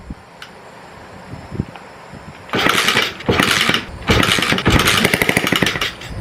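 An SSR70 Chinese pit bike's small engine catches after quiet attempts and bursts into loud, choppy running, revving in uneven pulses with brief dips between blips.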